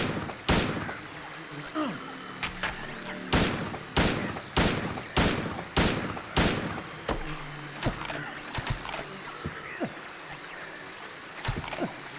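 Gunshots in the video game Silent Hill 2, a dozen or so loud, sharp shots fired at an uneven pace, some close together and others spaced out, over a dark rumbling background.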